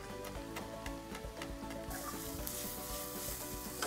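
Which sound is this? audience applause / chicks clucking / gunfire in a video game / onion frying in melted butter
onion frying in melted butter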